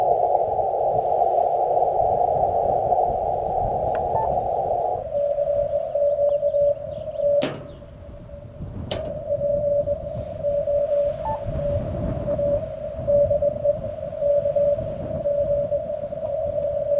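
A weak ham radio DX signal right at the noise level on a vertical antenna, a thin steady tone riding over broadband static hiss, with a couple of brief clicks and the static shifting partway through.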